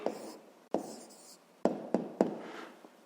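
A pen writes an answer by hand on paper, giving short scratchy strokes with a few sharp taps as it touches down, close and fairly quiet.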